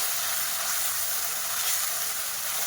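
Onion paste and cumin seeds sizzling in hot oil for a desi chana masala gravy, a steady close hiss and crackle holding at even loudness throughout, with no talk.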